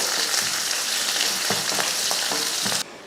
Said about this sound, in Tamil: அடுத்து ஒரு பெரிய வெங்காயம் இதை வதக்கிடலாம்